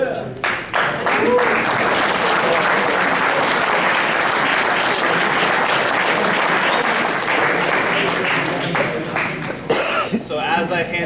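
A crowd at a high school baseball spring awards ceremony gives loud, sustained applause for JV players, with a few coughs mixed in before the clapping thins out near the end.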